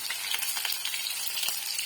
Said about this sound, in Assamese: এইখিনি ভাজি বনাই